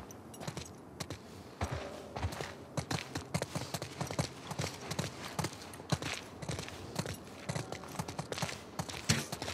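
Rhythmic hoof clip-clops of horses walking in the video game The Last of Us Part II, steady and fairly close, with scattered light knocks and no voices.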